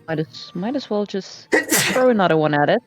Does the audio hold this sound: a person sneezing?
yes